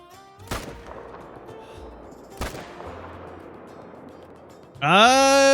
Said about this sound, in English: Let's see if we can get some shots down range, though.